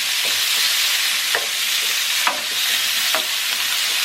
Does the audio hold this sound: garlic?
yes